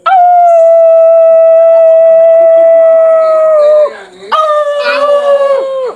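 A folk storytelling performer imitates a dog howling, a loud sustained close vocal howl that dips, breaks off, then resumes in shorter yelping wails, alone without other talk.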